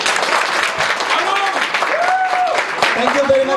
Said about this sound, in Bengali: সবাই আমাদের এই গ্রেট পারফরমারদের প্রতি আরেকবার হাততালি